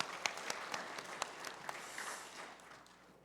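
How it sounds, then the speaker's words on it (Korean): A Sunday worship congregation gives a round of applause after a choir's hymn, many hands clapping with a few sharper claps standing out before the sound tapers off. "영광의 박수 올려드리겠습니다."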